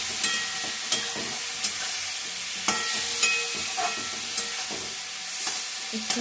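Spices stir-fried in a pan for a fish curry with winter vegetables, crackling with a steady sizzle and marked by sharp scrapes of a spatula at irregular intervals, close up and with no voices.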